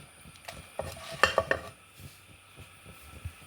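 Peppercorns, dry chillies and garlic roasting in ghee in a pan give off faint, light sizzling with a few sharp clinks of stirring, close up and quiet.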